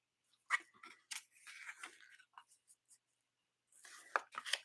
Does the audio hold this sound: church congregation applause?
no